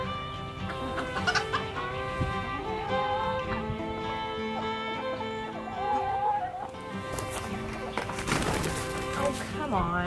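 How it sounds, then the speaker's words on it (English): Chickens cluck repeatedly near a greenhouse among seedlings and flowers, the hens' calls layered and continuous with some voices talking over them. "Crazy chickens."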